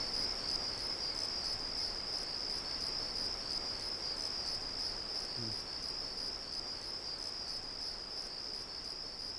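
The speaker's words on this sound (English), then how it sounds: "the crickets are loud" Loud, steady cricket chirping fills the night ambience of the video game Deus Ex, a continuous high pulsing drone running alone throughout with no talk.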